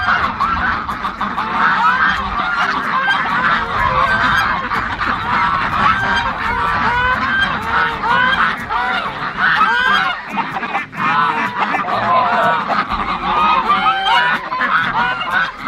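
A crowd of farm ducks waiting to be let out honks and quacks nonstop, many overlapping calls close by and loud.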